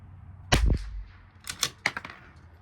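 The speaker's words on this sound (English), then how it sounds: "Last shot." A single Bergara B14R rifle shot fired during a rifle match ammo test, one sharp loud crack followed by a brief echo and a few faint clicks.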